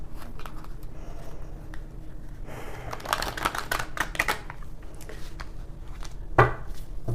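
Cards are riffled and shuffled in several quick bursts, close up, with softer handling sounds in between.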